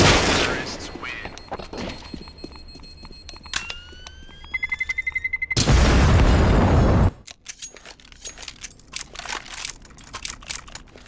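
A loud bomb explosion in Counter-Strike: Global Offensive erupts midway as a deep, sustained roar lasting over a second. It follows rapid beeping and scattered gunfire, with more gunshots crackling afterwards.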